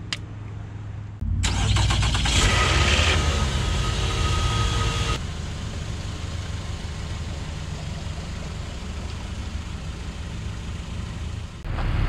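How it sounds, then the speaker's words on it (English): A Nissan car engine cranks and catches after a quiet second, revs up loudly, then settles into a steady, close idle that runs on for about ten seconds with no talking. "we started the car, we're letting it idle"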